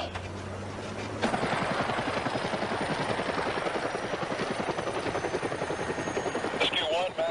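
Medevac helicopters from Nebraska approach with a loud, steady rotor chop that starts abruptly after a quieter opening and continues with a rhythmic thumping throughout; radio voices speak faintly beneath it.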